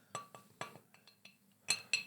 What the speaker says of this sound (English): that's the sound of the confectionery getting tapped on the plate over and over